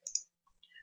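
Two faint, quick computer mouse clicks in CAE software, a sharp double tap followed by softer small clicks, isolated in otherwise quiet surroundings.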